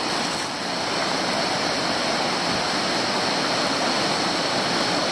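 A mountain stream with its water level risen rushes in a loud, dense, unbroken roar, heard up close along a Lycian Way hiking trail in Turkey, with no voices over it.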